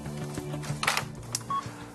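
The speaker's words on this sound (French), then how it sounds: "l'urgentiste utilise le téléphone des propriétaires de la ferme pour appeler ses services" A farmhouse telephone is dialed to reach emergency services, with a short dialing tone audible over a busy, noisy background of clattering and movement.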